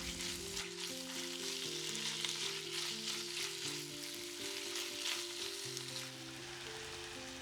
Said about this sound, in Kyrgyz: Этти дагы пияз менен чогуу кууруп алабыз